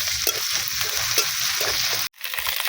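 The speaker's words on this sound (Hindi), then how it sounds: "अब उसी तेल में मैं दे रहा प्याज, हरा मिर्च, हल्का सा भून लूंगी।" Onion, green chili, ginger and garlic fry in hot oil with a steady bright sizzle, broken by the rhythmic scrape of stirring and a brief drop in sound near the end.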